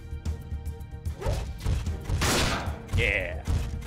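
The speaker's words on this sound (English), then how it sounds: "I guess it's time for some skull smashing." Heavy mech melee blows in the Front Mission 4 video game, a run of loud crashing thuds and smashes. One crunching impact rings out near the middle and is followed by a bright metallic clang, all close and forceful.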